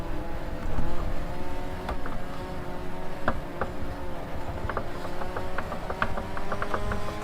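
Race car in the GTR 2 video game lapping Twin Ring Motegi in a 1999 JGTC race, its engine droning steadily at high revs with repeated short clicks and shifting tones as it works through the corners.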